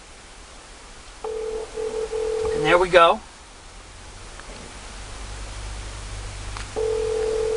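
A car's Bluetooth hands-free system dials a phone number, giving a short run of beeping tones followed by steady ringback tones. Someone speaks briefly in the car.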